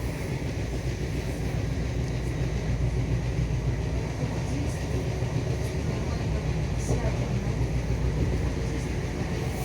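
South Western Railway train running from Waterloo to Strawberry Hill, a steady close rumble and rattle of the carriage heard from inside, continuous and even throughout.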